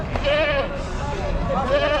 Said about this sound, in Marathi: इकडे शेळ्या पाहू शकाल बघा